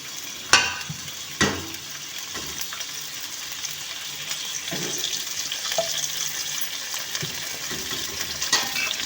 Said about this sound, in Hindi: अब हम कढ़ाई में डाल लेंगे, घी डाल लेंगे हम लोग।